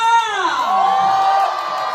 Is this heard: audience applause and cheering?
yes